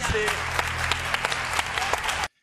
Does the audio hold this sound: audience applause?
yes